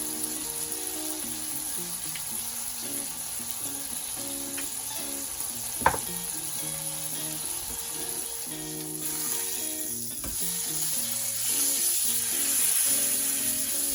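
Bacon sizzles steadily on a Blackstone electric griddle, a constant close crackle with a sharp tap near the middle and a slight rise in intensity toward the end, no voices.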